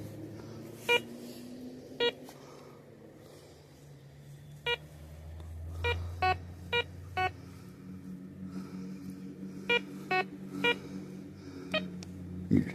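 Metal detector pinpointer gives short, sharp electronic beeps, a dozen or so, irregularly spaced and fairly clear over a quiet outdoor background.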